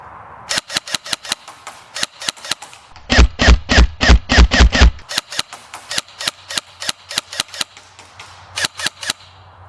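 A used airsoft gun firing with a flat trigger: sharp, close snapping shots in quick semi-automatic strings, with a tight run of louder, heavier-sounding shots in the middle before the rapid cracks resume.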